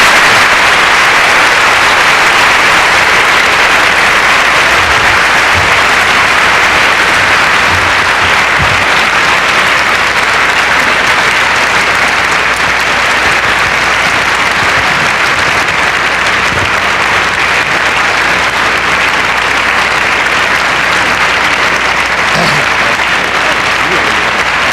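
Audience at an IMSA lecture by Captain James A. Lovell applauding loudly and continuously for about twenty-five seconds, a dense wash of many hands clapping.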